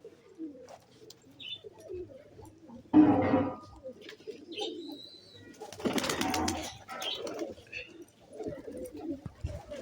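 Pigeons coo in low, rounded bursts while being fed grain, with a sharp flurry of wingbeats partway through and scattered rustling and faint background voices around the birds.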